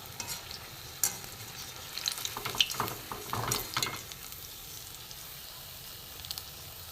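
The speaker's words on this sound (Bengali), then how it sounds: "এইভাবে আমি সব কটা ভেজে নেব" Mango fritters sizzle steadily in hot oil, a close, soft crackling hiss with occasional stirring clinks and bubbling bursts, no voices.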